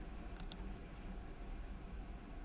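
A few faint, sharp computer mouse clicks, including a quick double click, rise over a steady background hiss. The clicks are sparse and quiet, with no talking.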